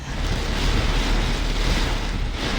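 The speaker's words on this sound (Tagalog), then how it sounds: "Ganito kalakas ang ulan at hangin na naranasan dito sa Iba, Zambales alas 3 sa madaling araw kanina." Heavy rain and strong wind at three in the morning in Iba, Zambales make a dense, loud, continuous roar that fills the whole moment without a break and with no voices.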